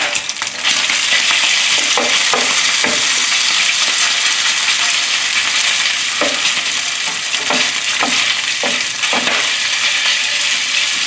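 Beef pieces browning and sizzling in a hot pan for cashew beef with vegetables, a steady loud fry with several scraping stirs spaced through it, no voices.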